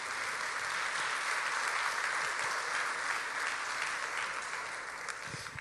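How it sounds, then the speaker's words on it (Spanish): A church congregation claps steadily for Jesus Christ during a Spanish-language sermon, a dense, even wash of applause from a large room that holds level and eases slightly at the end. "Démosle un aplauso a Jesucristo"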